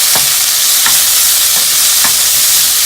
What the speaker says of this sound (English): Now add in your shrimp. Grab a spoon, give it a stir.